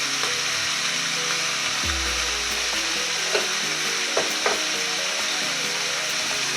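Food with turmeric is stirred and fried in a pan, giving a steady close sizzle with a low rumble that drops away early and a few soft scrapes of the spoon.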